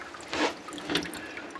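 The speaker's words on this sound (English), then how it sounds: "see all the water dripping off of it right here and there and there" Water drips from a leaky T fitting on a boat's plumbing pipe aboard an Endeavour 52, two soft, close drops landing about half a second apart over a quiet background.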